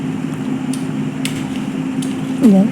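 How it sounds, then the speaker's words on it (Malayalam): A stapler snaps through a paper book cover wrap in a few sharp, separate clicks spaced about half a second apart, over a low steady hum, with a short voiced tone at the end. "അവിടെ നമുക്ക് സ്റ്റേപ്ലർ ചെയ്ത് കൊടുക്കാം"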